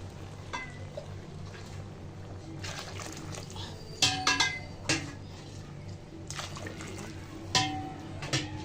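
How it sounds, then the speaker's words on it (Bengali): Water poured in mugfuls into a pot of rice fried with beef for tehari, a pouring hiss broken by sharp clinks of mug against the metal pot, close up. "এখন দিয়ে দেবো পানি।"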